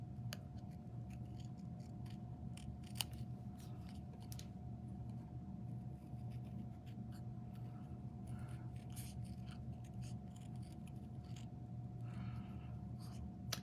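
Stampin' Up! paper snips cut through cardstock in a quiet room, a series of crisp, close snips and paper rustles spread irregularly across the stretch over a faint steady hum.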